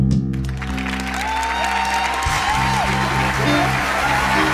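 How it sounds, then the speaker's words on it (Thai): A studio audience at a Thai luk thung music TV show claps in sustained applause, loud and close, while music and a host's voice carry on underneath. "ขอเสียงปรบมือต้อนรับ"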